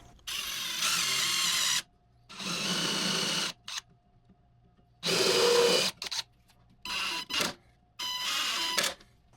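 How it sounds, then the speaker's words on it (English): A power drill drives wood screws into wooden end pieces of a hopper bird feeder, with loud close whirring bursts of one to two seconds each separated by quiet pauses, plus a few shorter spurts. "This was done making some pilot holes and driving some wood screws to secure"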